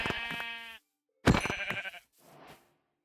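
Sheep in the video game Minecraft bleat three times, each a clear, close, wavering baa separated by short silences, the middle call loudest.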